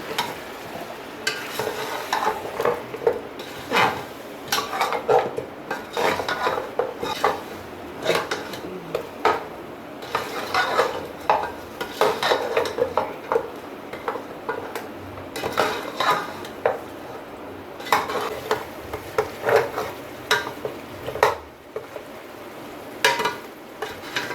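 Nihari spice masala is stirred and fried in a pot, with a spoon repeatedly clattering and scraping against the metal over a light sizzle, close and continuous with busy rhythmic strokes.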